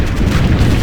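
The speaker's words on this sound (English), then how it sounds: "Now that's an explosion." A loud, dense explosion in the real-time strategy game Ground Control 2 fills the whole moment with a continuous low rumbling boom that never lets up.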